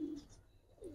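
Old-breed Giribaz high-flyer pigeons give two brief soft coos, one at the start and one near the end of a quiet moment.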